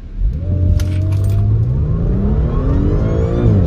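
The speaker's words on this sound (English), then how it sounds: "I'm going to put some revs on and then let the brake off." An Audi S5 revs up and pulls away hard on a 0-60 acceleration run, its engine note climbing steadily in pitch, loud and close throughout with faint rattling on top.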